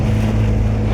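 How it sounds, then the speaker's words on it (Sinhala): A motorboat on a lake at Nuwara Eliya makes a loud, constant engine hum, with water rushing and wind noise close by. "ඔන්න දැන් මම බෝට්ටුවේ නැගලා ඉවරයි."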